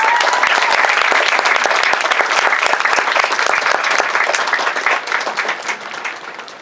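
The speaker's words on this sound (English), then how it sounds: "Ladies and gentlemen, please join us in a round of applause" An audience at a Marine Corps graduation ceremony bursts into sustained, dense applause, loud and steady for several seconds before gradually thinning and fading.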